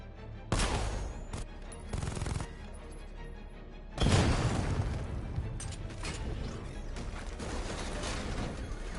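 Gunfire in a Batman video game: a loud, close burst of shots at the start, a short gap, then a heavier barrage that settles into sustained rattling fire and rumble.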